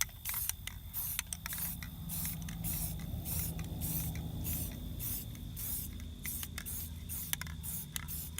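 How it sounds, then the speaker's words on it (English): Spray paint hissing in short bursts while applying a woodland camo pattern to an airsoft gun, with faint rattles and clicks between sprays, close and steady throughout. "Make sure that if you do slight sprays, is that you go back over it later and do second coating."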